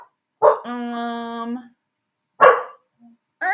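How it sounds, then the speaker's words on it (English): A dog barks and gives a drawn-out whining yelp indoors, with a couple of sharp bursts spaced across a few seconds while someone talks nearby. "I don't know why she's barking now all of a sudden."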